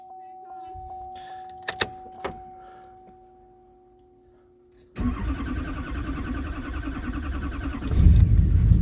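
A Duramax diesel engine on jump start cranks and catches at about five seconds, then runs loud and rough, rising into heavier revving near the end, after a quiet stretch with a steady electrical hum and a couple of clicks.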